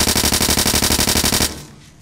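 Rapid SMG fire in the shooter Blood Waves, a fast even burst of about fifteen loud shots over a second and a half, then a short fading tail.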